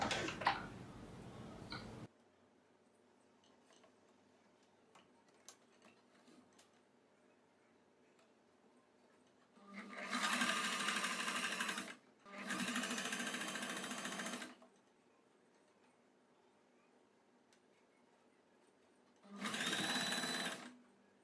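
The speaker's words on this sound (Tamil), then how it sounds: "இப்படி பண்ணிவிட்டு நம்ம இந்த எட்ஜஸில் அப்படியே தைச்சிடலாம்." Sewing machine stitching the edges of a net kurti neck, one brief burst at the start, then two rapid whirring runs close together and a final short run, separated by quiet pauses.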